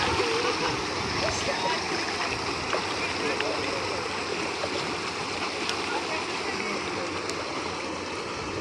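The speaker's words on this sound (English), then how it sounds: "There you saw some fish splashing." Fish splash in a rescue pond while being fed, the water churning in a steady, dense wash with no clear break, heard fairly close.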